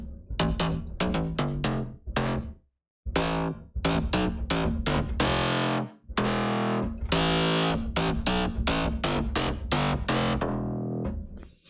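Serum 2's default Club Bottle bass preset plays a gritty, distorted synth bass in a choppy rhythm of short stabs and longer held notes, loud and upfront, broken by brief pauses.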